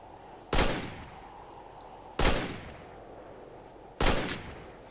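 Three loud gunshots in the Drive 4 Survival video game, spaced about 1.7 seconds apart, each a sharp crack with a short decaying tail over a low steady background.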